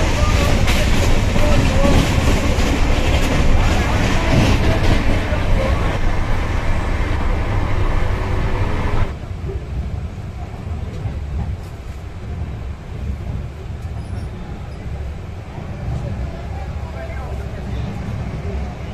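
An Una Jan Shatabdi LHB passenger train rolls along with a loud, steady rumble and rattle heard from inside. Partway through, the noise drops sharply to a quieter, muffled running hum.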